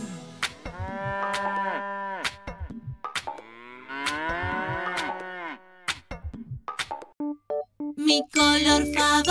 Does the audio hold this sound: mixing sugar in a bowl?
no